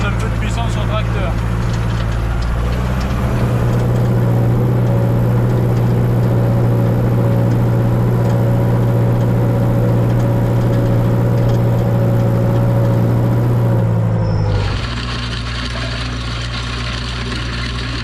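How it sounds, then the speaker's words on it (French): A farm tractor pulling a vibrocultivator tillage tool runs with a loud, steady engine drone and whir that shifts abruptly to a lighter tone near the end. "Donc vaut mieux lancer le tracteur et poser l'outil après, parce que le vibro, c'est quand même un outil qui demande un peu de puissance au tracteur."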